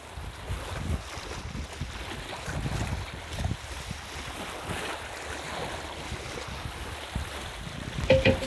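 Steady wind noise aboard a sailboat, with rushing water and low buffeting throughout and a few louder gusts near the end.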